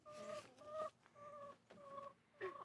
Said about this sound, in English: The chickens don't mind them. They in here now trying to nest.